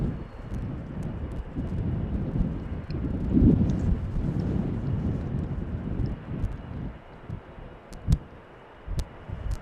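Airliners landing on runway 27 at Amsterdam Schiphol in windy weather, a steady broadband jet roar under gusty wind noise, moderately loud and continuous with a few sharp thumps near the end.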